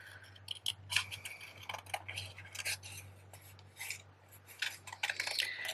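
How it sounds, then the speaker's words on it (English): Scissors fussy-cutting a stamped paper image out of card stock for a seaside starfish greeting card, giving a series of close, quiet snips and rustles over a steady low hum, with no one talking. "So I'm just going to cut this out real quick."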